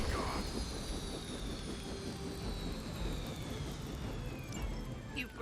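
A helicopter in the video game Midnight Suns roars steadily with a dense engine and rotor rumble that holds loud throughout, with faint whooshes sweeping past near the end.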